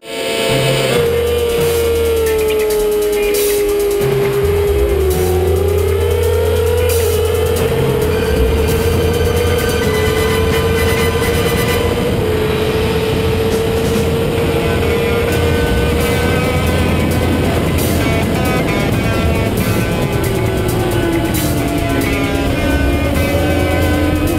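Honda and Kawasaki sportbikes at an amateur road-racing national in Calgary, with loud, sustained high-revving engines droning together as the field passes and shifts, and steady pitch sweeps.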